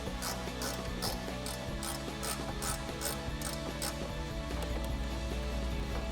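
A ratchet fitted with a 21 mm socket turns off the front bumper nuts on a 2021-2022 Ford F-150, rapid repeated pawl clicks in a steady rhythm over close mechanical clatter, with no talking.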